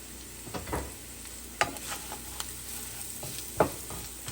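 Spices for Maharashtrian zunka are stirred in a hot pan, a spoon scraping in scattered strokes over a steady soft sizzle of frying, close by and with no one talking.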